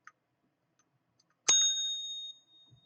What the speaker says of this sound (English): This is the Terra Lumination new subscriber bell.